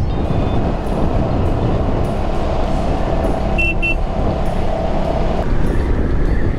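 Royal Enfield Hunter motorcycle riding along a road, a steady loud engine drone with wind rush throughout, no talk.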